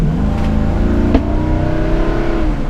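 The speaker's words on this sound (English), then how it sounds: "And then as we drive up the street here" A 2015 Thor Hurricane Windsport motorhome with a Ford V10 engine drives up a street, its steady low engine drone and road rumble continuous and close, with a brief clunk partway through and no talking.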